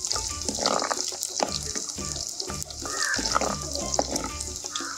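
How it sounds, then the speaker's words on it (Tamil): Garlic fries in hot oil for fish and potato cutlets, a close crackling sizzle with bursts of popping and a few utensil scrapes, with no talk. "உள்ளி வந்து கொஞ்சம் நல்லா பொரிஞ்சாக்கா அது நல்லது"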